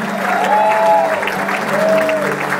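Crowd clapping at a bluegrass concert in a legion hall, a continuous dense patter with sustained tones and musical notes sounding through it.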